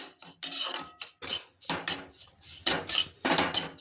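A spoon scrapes and clatters against a pan while fine roasted semolina is stirred for a sweet sheera, in repeated close, uneven strokes with short pauses.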